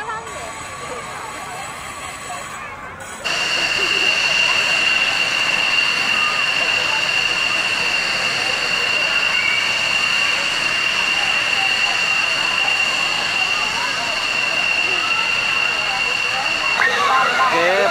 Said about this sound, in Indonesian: Pesawat F-16 sudah mulai bergerak.